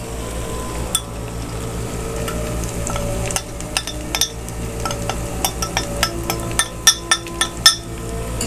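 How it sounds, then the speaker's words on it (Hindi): Steady sizzling of curry powder frying with ginger-garlic paste in a pan, with a spoon stirring and scraping, clinking against the metal in quickening taps toward the end. "और इसको थोड़ी देर के लिए फ्राई करेंगे।"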